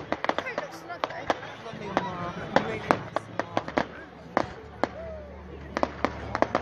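Fireworks burst again and again at an outdoor display, sharp bangs and crackles arriving in an irregular run over a steady low rumble from the crowd, fairly close and loud.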